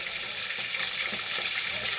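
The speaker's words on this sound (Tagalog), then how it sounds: "bantayan nyo yung prito ko" Fresh sea fish frying in hot oil gives a dense, continuous sizzle and crackle, loud and close, with no voices over it.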